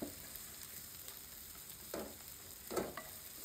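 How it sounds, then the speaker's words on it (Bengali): Onions fry slowly in a pan for a fish dish, a soft steady sizzle with a couple of brief stirring scrapes, close but quiet, and no voices. "এই পেঁয়াজটা সম্পূর্ণ বেরেস্তা করে ফেলতে হবে, বেরেস্তা মানে ভেজে ফেলতে হবে"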